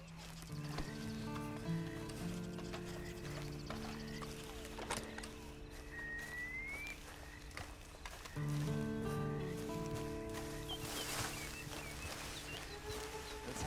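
A horse in the video game Red Dead Online clip-clops along with soft, regular hoofbeats under a layer of game music and ambience, and a brief whinny rises midway.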